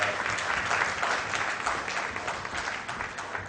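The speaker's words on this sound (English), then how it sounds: "Round of applause for a fantastic speaker panelists." An audience at an energy conference panel session applauds the panelists with a steady wash of many hands clapping, moderately loud, staying even throughout the short stretch with no talking.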